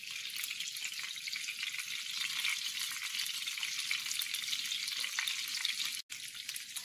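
Chicken pieces for General Tao fry steadily in hot oil in a pan, a dense, even crackling sizzle with no voices and only a brief dip near the end.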